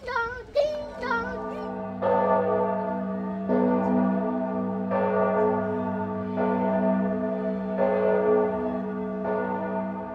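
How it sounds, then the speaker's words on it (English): Church bells ring in a steady, repeated peal with strong sustained tones, struck again roughly every second or two and left to ring on, loud and close throughout. "I see a church. Ding dong, ding dong."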